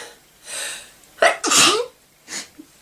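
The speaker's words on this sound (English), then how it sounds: "Moment, ich muss niesen." A single loud, close sneeze, with a sharp intake breath and then a forceful burst, preceded by a softer wind-up breath and followed by a brief quieter exhale.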